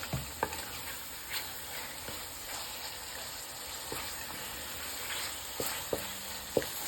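Chicken sizzles and fries in a pan over a high flame, a steady close hiss broken by occasional clicks and scrapes of stirring, with no talking.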